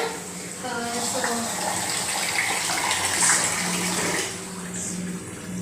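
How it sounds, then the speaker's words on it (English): Tap water runs steadily into a vessel for washing rice before cooking vegetable pulav, a continuous gushing splash at close range with faint talk beneath it. "So first we need to put water."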